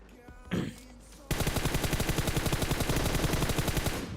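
Rapid automatic gunfire from a mobile battle royale game, a brief shot and noise early, then a sustained loud burst of fast evenly spaced shots running to the end without talk.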